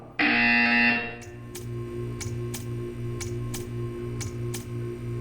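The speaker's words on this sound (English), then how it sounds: "You will hear a buzzer. When you hear the buzzer, stare at the art." A loud, harsh buzzer blares for about a second in the video game Portal 2, then gives way to a steady low hum with a series of sharp, evenly spaced ticks.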